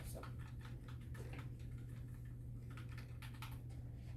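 Computer keyboard arrow keys tapped repeatedly while playing a Python maze game, quick irregular clicks close by over a steady low hum.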